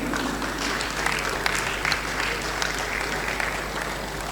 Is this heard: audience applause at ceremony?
yes